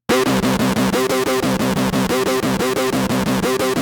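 A fast, repeating synth arpeggio with heavy fuzz distortion at full amount, loud and buzzy, cycling through the same rapid note pattern.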